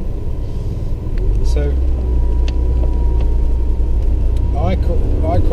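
Lancia Delta Integrale Evo 1 engine rumbling steadily from inside the car while driving, a constant low drone under a voice.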